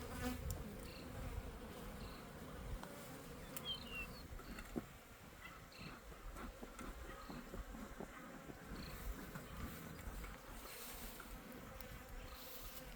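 Honeybees in a hive building new comb make a faint, steady buzzing hum with occasional closer individual bees droning past.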